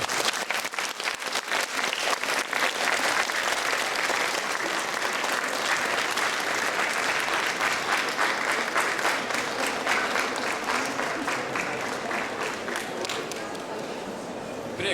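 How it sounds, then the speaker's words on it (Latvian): Audience at a Latvian book festival applauding after a children's choir song, a long sustained burst of dense clapping that stays loud throughout and eases slightly near the end. "Nu tad vēlreiz tā par riktīgo aplausu"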